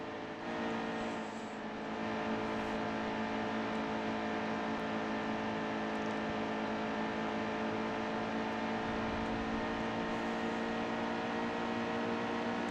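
A stock car's engine in the NASCAR Heat 2 racing game drones steadily at full throttle, a loud continuous whine that holds nearly constant through the whole stretch.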